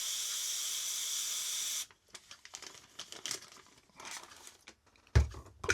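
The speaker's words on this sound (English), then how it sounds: "So just squirt a load of that in there." A hissing spray of chrome-stripping chemical squirted into a Ziploc bag, one steady hiss lasting under two seconds, followed by faint crinkling and handling noises of the bag.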